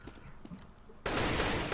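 CS:GO gunfire during a one-on-one match: scattered faint game sounds at first, then a sudden loud, dense burst of rapid shots that continues to the end.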